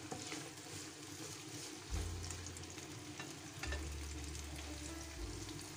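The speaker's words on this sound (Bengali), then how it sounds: "ভাজির জন্য আমি এখানে পেঁয়াজ, কাঁচামরিচ আর হালকা একটু রসুন দিয়ে একটু হালকা লাল লাল করে নেব।" Onion, green chili and garlic fry in hot oil in a pan, giving a steady close sizzle with occasional stirring scrapes and low bumps, and no one speaks.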